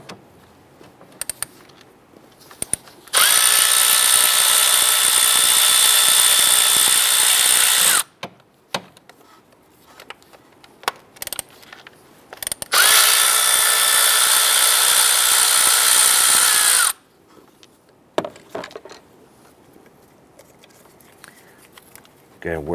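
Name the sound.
power tool loosening 10mm ignition coil bolts, Chrysler 300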